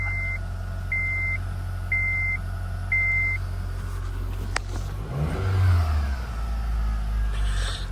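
An Acura/Honda car after an ignition housing repair: four even warning chimes beep, then a sharp click, the starter cranks, and the engine catches and settles into a steady idle, close and loud, with no voices.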